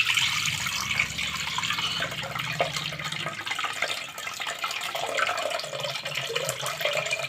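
Water is poured off washed sesame seeds in a kitchen, a steady splashing, trickling stream close up that runs throughout with no talk.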